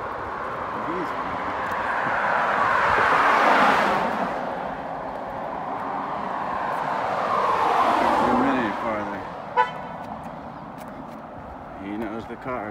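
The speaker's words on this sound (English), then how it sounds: "Car" Two cars pass by one after another, each swelling from a distant whoosh to a loud, close roar and then fading, followed by a brief sharp knock and quieter traffic.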